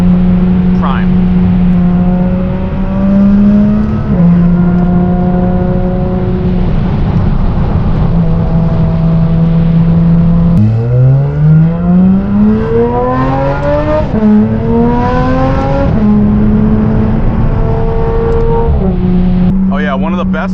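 A Porsche 992 GT3 RS fitted with an R1 Motorsport exhaust revs hard and close by, its engine note climbing and dropping through several sweeps while a voice talks over it.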